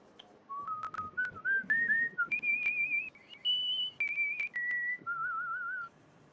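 A person whistles a simple rising and falling tune alone, close and clear, as a run of short sustained notes with brief gaps.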